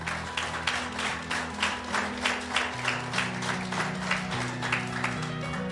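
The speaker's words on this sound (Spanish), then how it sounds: "Denle un aplauso a él." A church congregation gives applause during a sermon, with the clapping falling into a loose rhythmic beat over sustained low organ or keyboard chords that shift pitch, loud and steady throughout.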